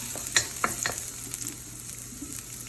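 Finely chopped garlic frying in sesame oil for a zucchini stir-fry, a soft, close sizzle with a few quick spatula taps early on, then a quieter steady hiss, and no speech.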